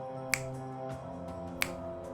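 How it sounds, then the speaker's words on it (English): Two sharp, isolated finger snaps, the first near the start and the second over a second later, each crisp and quick above a low steady hum in an otherwise quiet room. "everyone heard what sounded like finger snaps"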